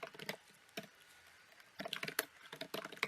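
Quiet bursts of computer keyboard typing, as a recipient and subject are entered in an email form, come in quick clusters of key clicks separated by a short pause, close and soft.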